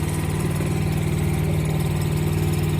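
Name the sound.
engine running after being put in gear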